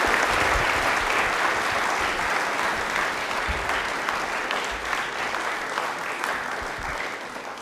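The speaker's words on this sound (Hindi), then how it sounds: "तालियां बजा दीजिए एक बार जोरदार वाली।" A studio audience at a televised quiz show bursts into loud, sustained applause, with steady dense clapping that runs throughout without a break.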